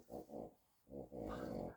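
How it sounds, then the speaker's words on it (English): A small dog snorts and sniffs at a door in short bursts close by, two quick snuffles, a pause, then a longer rough snorting breath. "that's my little dog sniffing at the door, and he does have an awful snort"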